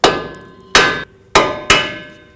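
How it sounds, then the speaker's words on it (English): Hammer blows against a car's steering knuckle to free the tie rod stud on a 2006-2011 Chevrolet HHR; four sharp metallic strikes ring out close and loud, each with a short decaying ring. "Hammer right here, that's going to break the stud free from the knuckle."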